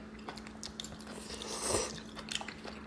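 Someone slurps and chews udon noodles from a mille-feuille nabe hot pot. Soft, close biting and wet chewing sounds repeat irregularly, with a slightly louder mouthful midway.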